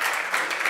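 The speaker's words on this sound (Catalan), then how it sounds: "Un altre aplaudiment per aquest plat tan emblemàtic" An audience at GastroPirineus 2024 applauds a dish. The clapping is a dense, close ovation that lasts under a second.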